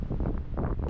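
Wind buffets the microphone in a brief, loud, rumbling gust while a Lone Rider motorcycle tent is packed up in wet weather.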